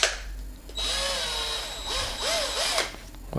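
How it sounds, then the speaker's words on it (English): A Guild cordless drill whirs up and runs steadily, pitch rising and dipping as the trigger is squeezed, then spins down; close and loud, no talking. "it's a Guild drill"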